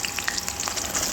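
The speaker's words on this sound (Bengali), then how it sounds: "এবার পেঁয়াজ ভাজতে দিয়ে দেবো" Chopped onions frying in hot oil in a home kitchen, a steady crackling sizzle with scattered pops, close and continuous, no voices.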